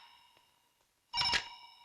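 A telephone rings at a police station: a loud, close electronic ring bursts out after a near-silent stretch, holding a bright, buzzing tone for about a quarter second before fading.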